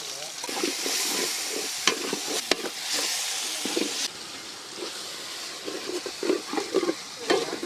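Tomatoes sauté in a Hyderabad-style chicken gravy pan with ginger-garlic paste, cooked outdoors at Andhra Konai Falls, giving a steady close sizzle broken by stirring scrapes and occasional clanks of the utensil.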